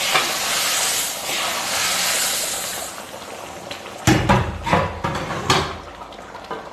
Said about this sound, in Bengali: এবার আমি ঘি আর গরম মশলা ফোড়ন দিয়ে দিলাম।